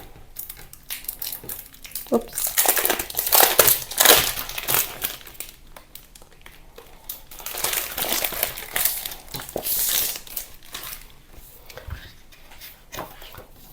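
A package of black 200 GSM alcohol ink paper is opened with loud crinkling and crumpling of its wrapping in bursts, close up, and a person speaks briefly.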